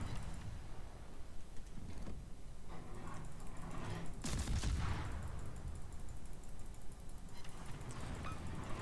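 Naval gunfire in a video game, with high explosive shells fired at an enemy ship, a dense continuous battle din with a heavy burst of cannon fire in the middle, loud and sustained throughout.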